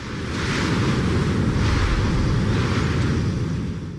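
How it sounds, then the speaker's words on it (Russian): A churning torrent of floodwater after heavy rain and hail, a loud continuous rushing roar close by that holds steady with no voices. "образовавшийся бурлящий поток воды продолжил сносить все на своем пути"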